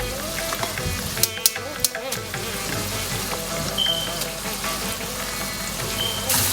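Ground masala frying with onions in a pan for Rayalaseema country-style chicken curry, a steady close sizzle and crackle with a few sharp utensil clinks near the start, without talking.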